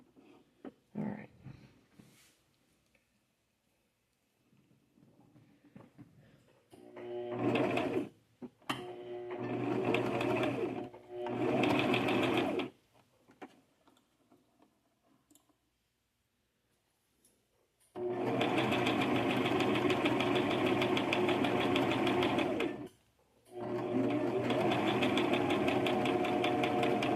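A domestic sewing machine stitches a garment facing in bursts: a few short runs early, then two long steady loud runs separated by a brief pause, with quiet handling between.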